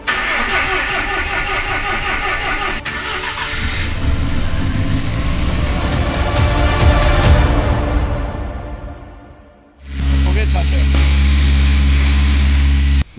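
Lancia Delta Integrale Evo2 engine, freshly rebuilt and warmed on flushing oil, running with a loud steady roar and some revving, then cutting out briefly before firing up again into a strong, even idle.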